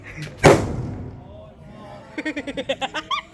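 A firecracker bangs once, sharp and loud, at a Diwali celebration, its blast trailing off before a string of quick rhythmic knocks and people talking.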